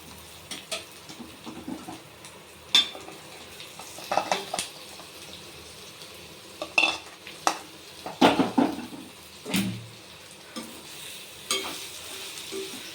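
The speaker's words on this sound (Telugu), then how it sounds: "ఇప్పుడు రొయ్యలు వేసుకుందామండి" Raw prawns go into a pan and are stirred while cooking, giving a low sizzle under scattered scrapes and clanks of the spoon against the pan. The sounds are close and irregular, with no talking.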